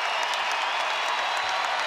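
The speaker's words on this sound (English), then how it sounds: "Listen to this crowd for Brandon Ingram." A basketball arena crowd roars and applauds for Brandon Ingram as he drills a fifth straight three-pointer in the quarter: a loud, dense, unbroken wall of cheering with no distinct voices.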